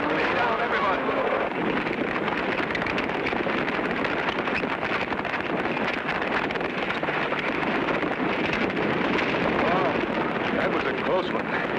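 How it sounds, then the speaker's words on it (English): A cattle stampede across open range in a cartoon: a dense, continuous roaring rumble of many hooves, loud and unbroken, with no quiet gaps. "There's always dangerous stampedes in this open range country."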